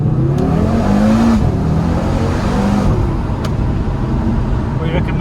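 A 2020 Audi RS3 accelerating hard in first gear from a rolling launch, a loud rising engine roar heard from inside the car, with voices talking over it.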